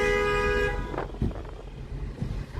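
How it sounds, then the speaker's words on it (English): Car horn honking at a zebra crossing in Wexford, Ireland, a loud, steady tone held for under a second, followed by traffic rumble and a few thumps. "Can't beep at people on zebra crossing, like."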